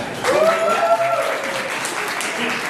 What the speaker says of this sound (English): Clap for this gentleman.